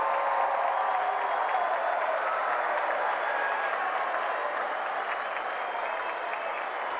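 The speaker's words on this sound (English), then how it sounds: "Crowd's happy here in Hamilton" A stadium crowd in Hamilton applauds and cheers as New Zealand finish a World Cup qualifier win over Vanuatu: a steady, broad, distant roar that holds unbroken throughout.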